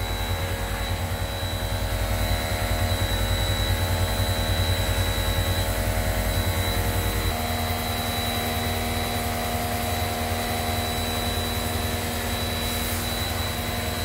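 An inexpensive, nearly new used motorcycle engine runs steadily nearby with a smooth, continuous drone, shifting slightly in tone midway and heard alone without talk.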